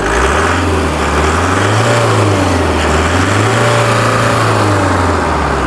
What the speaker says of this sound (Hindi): जब इसमें पंजा दबाते हैं, तो आपको पता चलता है कैसे दहाड़ता है ये इंजन